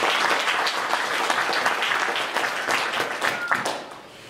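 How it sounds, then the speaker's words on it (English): An audience at a community arts event about water and laundry breaks into full, continuous applause that stays strong, then tapers slightly at the end. "We can applaud."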